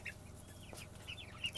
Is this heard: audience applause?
no